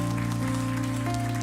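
A church congregation claps together to welcome the children during Sunday worship, a continuous mass of applause held over a low sustained organ or keyboard drone.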